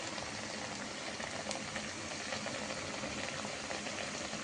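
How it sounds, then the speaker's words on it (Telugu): Cowpea vadas frying in a kadai of hot oil, a steady dense sizzle and bubbling that fills the whole stretch at an even level, with no talking. "వేసేస్తాం వేడి వేడి నూనెలో."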